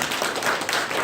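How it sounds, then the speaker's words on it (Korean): Church congregation clapping during a Sunday sermon: a brief, dense round of applause from many people, steady and fairly close, with no talking. "동감하시면 박수 한번 해주십시오."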